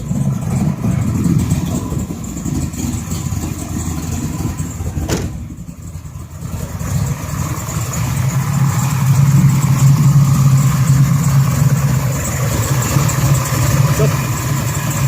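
A 1967 RS Camaro with a 572 engine running after a cold start, with a loud, close, lumpy idle that keeps rumbling continuously and swells slightly partway through, with voices talking over it.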